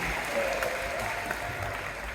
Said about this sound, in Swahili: Yesu makofi na vigelegele